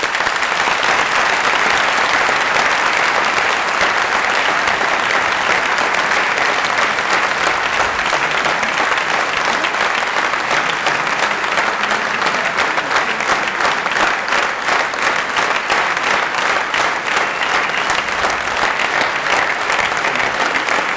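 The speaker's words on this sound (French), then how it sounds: "je vous demanderai de leur faire une ovation, mesdames et messieurs" A hall audience at a town's New Year civic ceremony honoring citizens for bravery breaks into sustained, dense applause that runs steadily and loudly for the whole stretch, with no voices rising above it.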